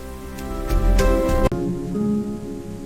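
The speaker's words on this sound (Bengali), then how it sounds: "আকাশ থেকে বৃষ্টি পড়ছে" Steady rain falls at night, a dense and continuous hiss that is loudest in the first half and softer after a brief break, with sustained tones running beneath it.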